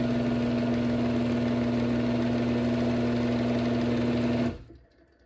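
A Genie G5000 garage door opener runs the door down with a loud, steady motor hum and mechanical whir, its clutch set loose, stopping abruptly near the end and leaving quiet.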